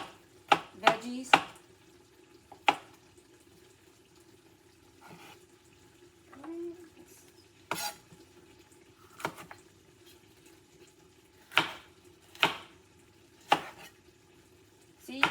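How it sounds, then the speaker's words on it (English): Knife chopping vegetables on a cutting board for chorizo chili, heard as a series of sharp, separate chops at an uneven pace, close and clear over a quiet kitchen background with faint running water. "So I'm gonna dice all of my veggies."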